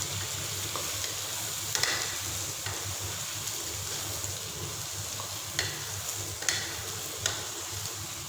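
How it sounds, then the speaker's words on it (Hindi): Diced potatoes for aloo gobi sizzle steadily in oil in a pan, a constant fry hiss with a few scattered ticks and light clinks of stirring, no talking. "वो आप लोग इसमें ऐड करके अच्छे से आप लोग इसको फ्राई करेंगे"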